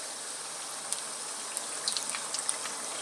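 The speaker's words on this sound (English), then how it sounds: "this oil is not raging hot. It's just, you know, bubbling nicely there" Vegetable potato samosas deep-frying in moderately hot oil give a steady, close hiss of bubbling, with a few faint pops and crackles scattered through it.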